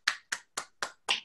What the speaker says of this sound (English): I want everybody to give a hand clap, a round of applause for Jackson Nativa,